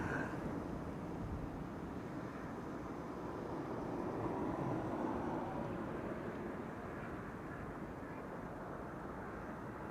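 EasyJet airliner bound for Luton at Amsterdam Schiphol Airport, a steady broadband jet roar holding evenly throughout at moderate distance, with no voices.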